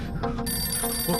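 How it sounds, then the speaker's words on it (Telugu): A telephone rings in a scene from a Telugu suspense horror film, a steady electronic ring starting just under half a second in and continuing over a low background. "ఎవడో మహానుభావుడు ఫోన్ చేసి ఉంటాడు."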